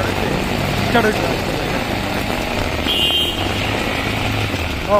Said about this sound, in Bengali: motor cycle